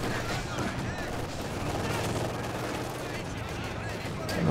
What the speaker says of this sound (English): he's taking heavy machine gun fire there